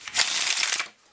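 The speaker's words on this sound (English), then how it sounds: "does a riff shuffle well" Bicycle playing cards being riffle shuffled, a single close, crisp ripping flutter of cards lasting just under a second, heard alone.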